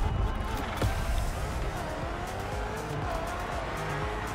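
Racing car engine roaring steadily in The Crew Motorfest video game, a continuous dense drone with faint tire noise, loud and close throughout with no talk.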